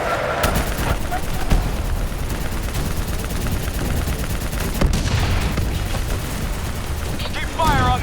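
Gunfire fills a first-person shooter battle against grunts and a VTOL, with dense, overlapping bursts and booms in a busy, loud mix, and shouted voice lines come through in places.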